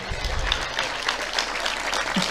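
An audience at a Tamil motivational speech claps in steady, dense applause that carries on throughout at a moderate level, with no voice over it.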